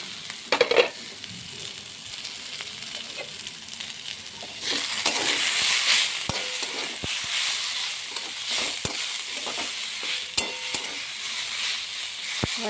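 Radish and fish with chopped coriander fry in a pan, a steady close sizzle with spatula scrapes and stirring clatter, the sizzle swelling louder midway and continuing without talk.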